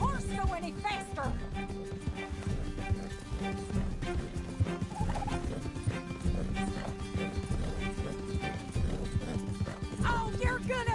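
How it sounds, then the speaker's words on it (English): A horse gallops in Red Dead Redemption 2 with rapid hoofbeats under a busy mix of game music, gunfire and voices, steady throughout and moderately loud. "Can't this horse go any faster?"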